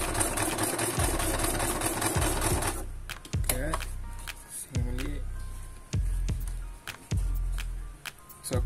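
A sewing machine stitches a replacement seat belt strap for a Perodua Axia car, whirring steadily for about three seconds before stopping, after which someone talks up close with short mechanical clicks between phrases.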